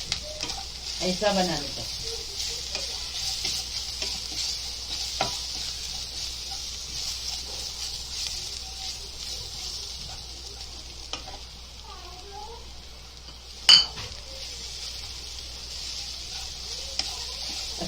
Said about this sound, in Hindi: अच्छे से चम्मच चला चला के उसको भूनेंगे